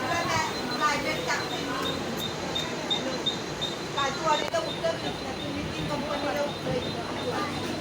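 A steady rumbling hum of a moving train carriage, with faint rattles throughout and a person talking over it.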